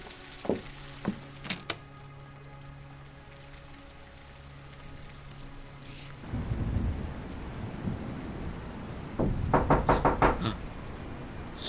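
Hard knocking on a motel door in a rainy-night detective video game, a few loud sharp knocks, then rain and thunder rumble swell before another rapid burst of knocks.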